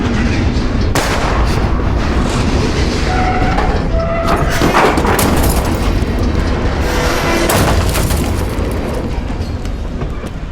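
Gunfire aimed at a car tire in the video game Life is Strange, a dense barrage of loud booming shots with rumbling echoes, continuous over a busy in-game soundscape.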